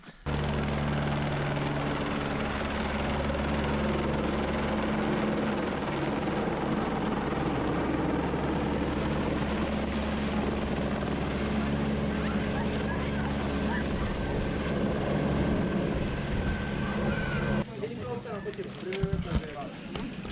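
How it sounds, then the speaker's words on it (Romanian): Helicopter supplying a mountain hut at Cabana Dochia on Ceahlău, Romania, a steady loud rotor drone that holds for most of the clip and then drops away near the end, with a voice faintly present. "aprovizionarea aici la cabana Dochia se face cu elicopterul"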